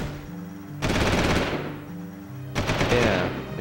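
A cannon firing in the Jak 2 video game, two loud bursts of rapid blasts about two seconds apart, each fading away over a low game hum.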